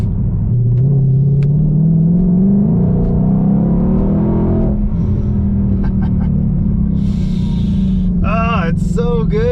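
A 2020 Shelby GT500 engine rumbles loudly and steadily throughout, its low drone rising in pitch as it builds, with a few brief higher squeaks and chirps near the end.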